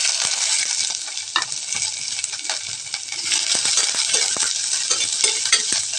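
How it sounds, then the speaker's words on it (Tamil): Steady sizzling of onions and green chillies sautéing in a pan, with occasional stirring clicks and scrapes, close by and continuous without any talking. "வெங்காயம் வதங்கட்டுங்க"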